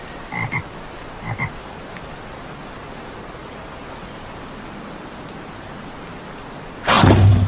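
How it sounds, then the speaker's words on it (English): A frog croaks in two short rattling bursts near the start, then twice more about four seconds later, clear against quiet background hiss, before a sudden loud burst of noise cuts in at the end. "Frog, frog."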